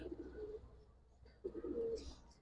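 Pigeons at a seller's stall in Old Dhaka, giribaz and coloured breeds, give soft low cooing calls, two short bursts close by and quiet, with a faint chirp at the end.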